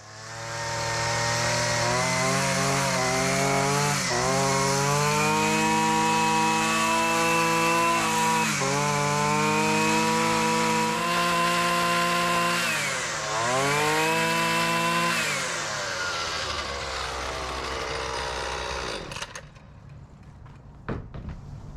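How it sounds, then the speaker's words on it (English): Gas weed whacker engine idling and revving as it warms up for winterizing, a loud buzzing two-stroke drone with rising and falling pitch over about twenty seconds before it cuts off. "Now I'm going to winterize my weed whacker. I'm going to start it up and then I'm going to let it run until it's warm."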